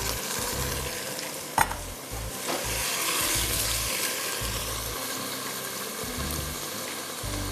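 Beef sizzles steadily in a hot pan while a utensil stirs it with ginger-garlic paste, with occasional scraping clinks against the metal; no one speaks.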